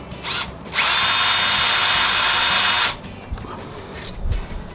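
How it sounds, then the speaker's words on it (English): A power drill whirs loudly for about two seconds as it bores through a wooden post, preceded by a short burst and followed by quiet handling noises. "and then drill through the post, and you should have it in the right position."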